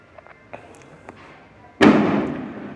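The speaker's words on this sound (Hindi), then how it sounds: "यहाँ पे मेरे ही घर के पड़ोस में एक शादी है तो इसलिए ये थोड़े से पटाखे वगैरह हैं" Firecrackers burst at a neighbouring wedding: a few faint pops and taps, then one loud close bang followed by a sustained crackling roar of bursts.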